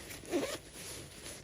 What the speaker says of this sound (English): you zip it up